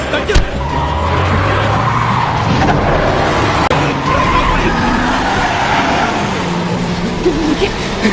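A car pulling away with tires skidding and squealing, engine roaring over a sustained screech for several seconds, with shouted voices mixed in.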